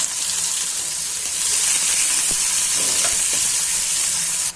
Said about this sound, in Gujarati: તેમાં આપણે પહેલાં ડુંગળી સાતળી લેવાની છે એકદમ સોફ્ટ થઈ જાય તેવી સાતળવાની છે